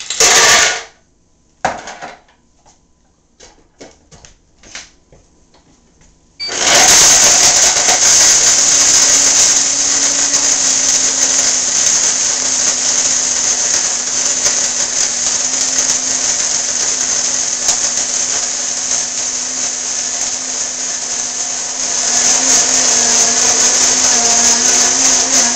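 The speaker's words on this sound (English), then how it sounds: "Now we're going to see what the small Blendtec does with 16 ounces of walnuts." A small Blendtec blender grinds 16 ounces of walnuts. A few quiet clicks and taps come first, then the motor kicks on loud and close with a harsh, rattling whir that runs steadily to the end.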